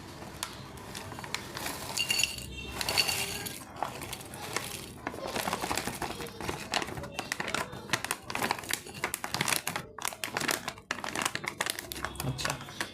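Detos sweet chilli chips are tipped out of a crinkly snack packet, giving a busy run of rustling, crackling and clattering that goes on throughout at close range, with a voice heard briefly.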